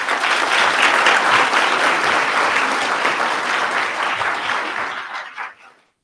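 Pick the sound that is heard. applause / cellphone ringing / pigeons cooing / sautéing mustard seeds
applause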